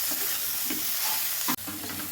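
Cabbage frying in a pan and being stirred, with a steady close sizzle, scraping stir strokes and a brief clatter near the end, no talking.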